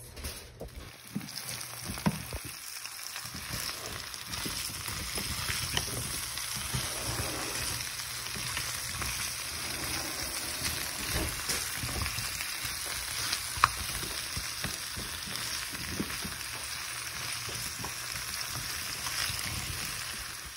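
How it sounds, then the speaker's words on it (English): Steady sizzling of chicken frying in a hot pan, a continuous crackle with occasional louder pops, close and moderately loud throughout. "now we're gonna brown the chicken a smidge bit while everything else is cooking"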